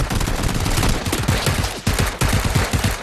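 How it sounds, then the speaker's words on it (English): Rapid automatic gunfire in PlayerUnknown's Battlegrounds, dense bursts of close, loud shots with brief pauses between strings, no voices over it. "We're getting shot still."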